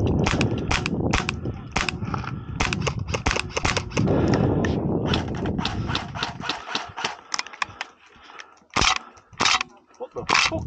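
Airsoft shotgun shots fired at an indoor field, a string of sharp close cracks and pops with scattered fire from other players, while people shout and talk between shots.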